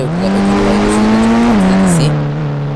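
Car driving at steady speed with a loud, close engine drone whose pitch rises slightly, then dips and settles, with no talk over it.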